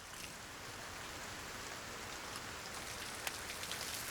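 Steady, heavy rain pours down in a continuous hiss, with occasional sharper drops spattering on nearby surfaces, even and unbroken from start to finish.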